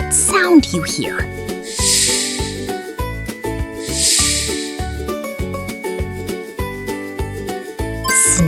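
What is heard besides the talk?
snake hissing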